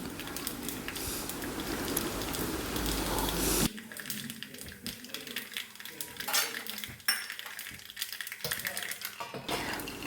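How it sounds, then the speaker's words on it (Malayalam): Mustard seeds crackle and spit in hot oil, a dense run of small sharp pops. The sound starts as a steady hiss and then thins into scattered crackles. "ഇതാ പൊട്ടിക്കഴിഞ്ഞു കടുക്"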